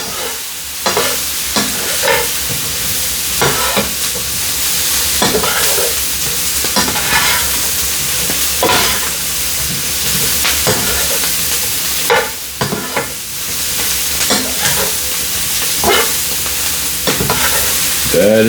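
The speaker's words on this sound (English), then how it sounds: "Then begin to roll them in that grease." Brussels sprouts sizzle in hot grease in a pan while being rolled and stirred, a continuous close frying hiss broken by repeated scraping clatters.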